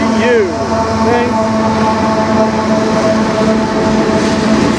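A CN freight train with a DPU locomotive rolls past, a loud, steady rumble and rail roar that fills the whole stretch, with a brief squeal of wheels near the start.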